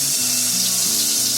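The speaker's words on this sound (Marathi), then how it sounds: "लसूण टाकली फोडणीला" Garlic sizzles in hot oil for a tadka, a loud close crackling hiss that runs without a break over a faint low hum.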